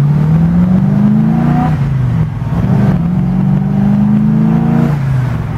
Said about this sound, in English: it has a nice little rumble to it. It's a good sounding car.